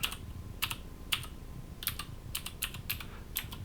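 Fast, light clicks of a computer keyboard as an address is typed into a browser, in short uneven bursts, close but quiet, with no talking.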